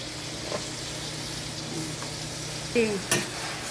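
Saluyot and mixed vegetables stirred in a cooking pan, a soft steady sizzle with a couple of sharp utensil scrapes and clinks near the end.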